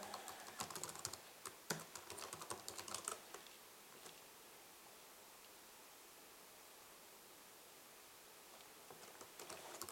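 Quiet keystrokes on a computer keyboard as a password is entered, a quick cluster of faint clicks early on, then near silence before a few more taps at the end; no voices.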